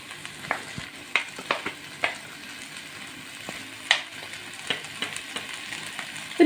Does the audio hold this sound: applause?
no